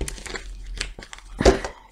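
A deck of angel oracle cards being cut and shuffled by hand, giving a few short papery crinkles and rustles in quick bursts, close and fairly soft, with no talking.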